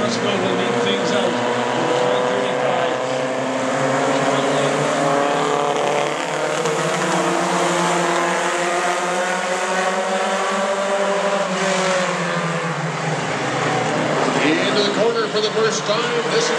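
Mini stock race car engines roar steadily at the start of a 20-car main event at Saratoga Speedway, British Columbia, with high, whining tones that shift in pitch as the cars accelerate, while a commentator talks over the noise.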